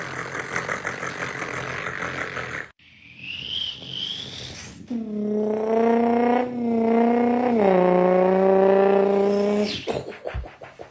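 A voice imitates a Ford 6.0 Power Stroke diesel engine, building from a rough, rattling idle into a loud, sustained droning rev with a clear pitch that rises, dips and holds for several seconds before cutting off.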